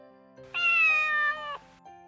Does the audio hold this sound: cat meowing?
yes